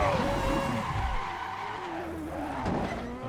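Race cars in a big wreck during a Daytona 300 racing game event, tires squealing and skidding loudly over a roaring engine, with the pitch sliding and swooping.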